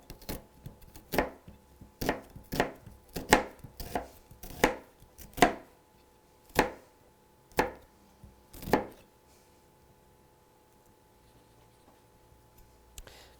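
A knife chopping an onion on a cutting board, about a dozen sharp, distinct knocks in an uneven rhythm that slows and stops partway through, close and moderately quiet in an otherwise still room.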